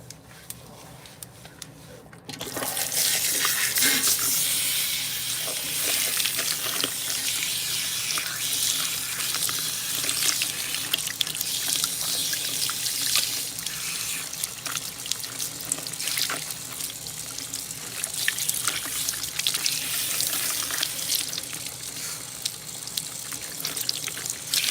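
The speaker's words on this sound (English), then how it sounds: "And then we're gonna use the dreadful cold water." Cold water runs hard from a salon tap while hair is being rinsed, a steady loud gushing that starts after a brief quiet moment and keeps going with small splashes and shifts in flow.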